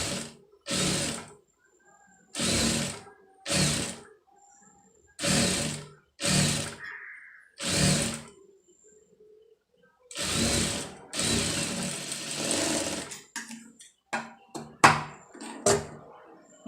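A sewing machine stitches readymade piping in short, loud bursts of rapid mechanical clatter separated by quiet pauses, with a longer run and several quick clicking stops near the end.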